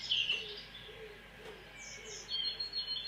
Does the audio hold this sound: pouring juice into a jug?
no